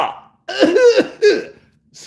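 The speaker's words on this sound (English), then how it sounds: "Let me clear my throat." A man clears his throat, two short rough bursts separated by a brief pause, close and loud with nothing else around them.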